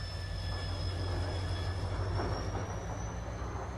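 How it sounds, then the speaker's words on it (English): A train departs in the video game Halo 3: ODST, its steady low rumble rolling under a thin, high, sustained whine and faint wheel squeal, continuous and fairly loud with no voices. "Last train. Now departing."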